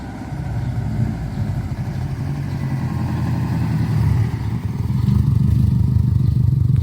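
Race car engine rumbling low and loud as it pulls down a street, a steady throaty drone that swells louder toward the end, with no talking.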